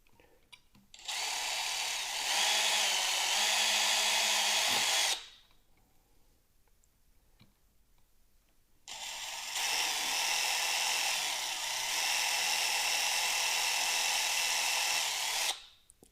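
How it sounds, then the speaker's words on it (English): A power drill whines steadily, pre-drilling screw holes in the plastic of a Hasbro Neutrona Wand toy, in two long bursts with a quiet gap between them; no talking. "you would pre-drill these holes and screw them into those holes"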